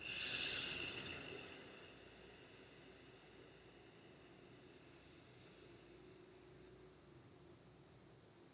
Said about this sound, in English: Inhale left.